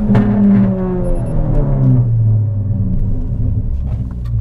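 A Ford Fiesta ST200 engine rumbles deeply as the car pulls out of a curve, its low exhaust tone rising steadily under acceleration, loud and close, with no talk over it.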